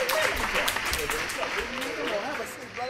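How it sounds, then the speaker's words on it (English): An audience applauds for a singer as he comes onto a talk show set. The clapping is a dense, steady wash with voices over it. "Give a round of applause."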